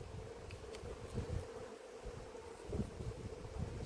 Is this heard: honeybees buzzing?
yes